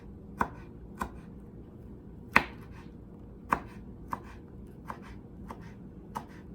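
A knife slices thinly through rolled basil leaves on a cutting board, producing crisp, evenly spaced chops about every half second, close and clear over a quiet background with no speech.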